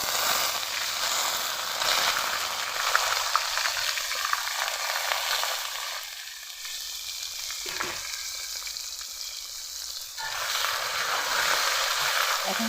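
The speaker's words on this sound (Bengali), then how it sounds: "এখন পেঁয়াজগুলোকে ভালোভাবে ভেজে নেব।" Chopped onions fry in a pan for a goat-meat curry, giving a bright, steady sizzle that crackles close by, quietening for a stretch before building back up, with no talk.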